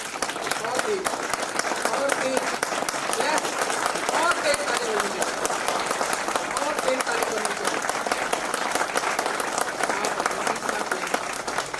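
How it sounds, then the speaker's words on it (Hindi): Loud, sustained applause from an audience at a company's 14th anniversary celebration, dense clapping filling the whole stretch at a steady level, with voices faintly mixed in underneath. "ऐसे संस्था के लिए एक बार बहुत जोर से ताली बजाएं।"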